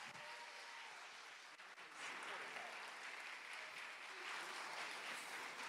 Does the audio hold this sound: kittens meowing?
no